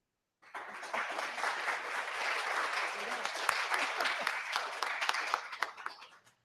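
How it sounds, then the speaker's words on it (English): Audience applauding after a research presentation at a public lecture on prisons and asylums, sustained dense clapping that starts abruptly, holds steady for about six seconds with sharp individual claps, then fades, heard from a distance and fairly quiet. "I was going to ask everyone to clap for you"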